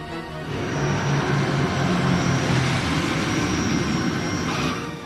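An inbound airplane lands on runway 02 at Kathmandu, a broad roaring rumble that swells in quickly and holds steady and loud, with a faint high whine riding above it before it eases slightly at the end.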